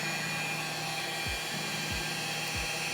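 A rotary polisher hums steadily in a high whine at low speed, about 450 RPM, with a few soft low thumps as the pad works flat across the paint; no voices.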